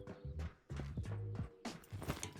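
Repeating footsteps in the shooter game Ghosts of Tabor, a few quick runs of heavy, hoof-like steps separated by short pauses, fairly close and alone.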